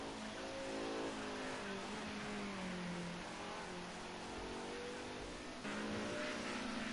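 A BMW M3 E30 Group A race car drives hard through a fast corner, its engine droning steadily and loudly with gear-related pitch shifts and a fresh surge near the end.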